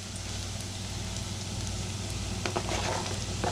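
Onions and celery sizzle steadily in a hot pan, a constant soft crackle with a few sharper pops near the end.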